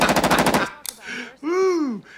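Steyr AUG rifle fired in a film scene: a rapid automatic burst of loud, evenly spaced shots lasting under a second, then a brief clatter and tonal sound effects.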